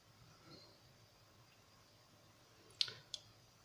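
Tactile switches inside a cheap RC aircraft remote controller give two faint, sharp clicks in quick succession near the end, after a quiet stretch.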